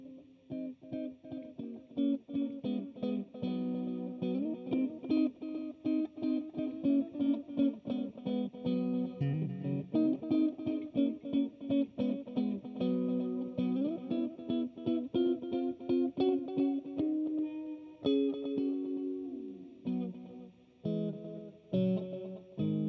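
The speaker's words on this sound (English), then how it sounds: "this mode is a crazy ambient reverb, kind of cranked up a little bit too, like with a longer delay" JHS 3 Series Oil Can pedal set to a cranked ambient reverb with long delay, washing sustained guitar chords into a continuous wet shimmer of repeats that plays steadily and fairly loud throughout.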